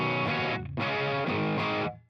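Electric guitar through the distortion channel of a Fender Champion II 50 amp, two loud, saturated sustained chords separated by a short gap, then the last one cut off and fading, played alone.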